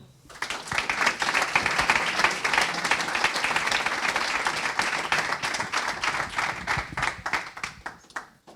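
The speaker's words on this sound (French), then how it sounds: "On peut l'applaudir." Audience applause at the Proxid'Or 2022 awards ceremony for a trophy winner, a sustained burst of many people clapping that rises quickly, holds steady and drops off near the end.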